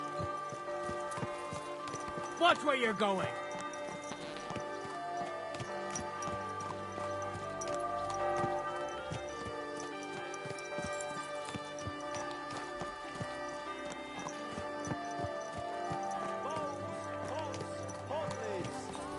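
Hoofbeats of a horse clip-clopping through a medieval town in Kingdom Come Deliverance 2, a rhythmic clatter under game chatter and market voices, with a louder burst early on.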